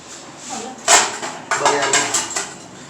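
Chicken biryani is served out of a cooking pot, with a few sharp metallic clinks and scrapes of a utensil against the pot, close and fairly loud.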